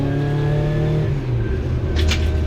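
A hot hatch race car pulls out at Silverstone for the second race, its engine droning loud and close in a steady mid-pitched note that rises and falls with throttle.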